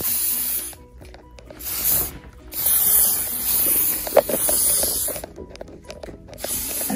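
Hairspray misted onto freshly curled hair after styling with a Remington Pearl ceramic conical curling wand: several short hissing spray bursts, close and fairly loud, separated by brief pauses with light handling noise.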